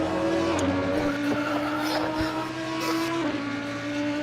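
A race car in Assetto Corsa Competizione roars at high revs while passing a McLaren, its engine note steady with a couple of pitch drops at gear changes, plus occasional tire squeal and thumps.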